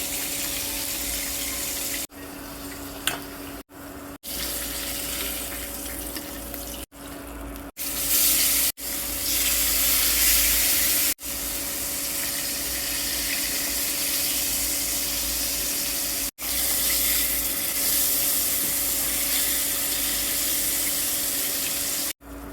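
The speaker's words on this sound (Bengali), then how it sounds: "ভেজে নেব এখানে হলুদ লবণ মরিচের গুঁড়া লেবুর রস দিয়ে অনেকক্ষণ মেখে রেখে দিয়েছি মাছটা এখন লাল করে ভেজে নেব মাছটা" Fish marinated in turmeric, salt, chili powder and lemon juice frying in hot oil, giving a loud, steady sizzle that runs close and unbroken apart from a few brief dropouts.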